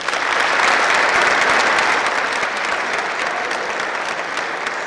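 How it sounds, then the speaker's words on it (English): Four hundred boys applaud in a school auditorium, a broad, continuous wash of clapping that stays loud and even from start to finish with no talk over it. "Give yourselves a round of applause."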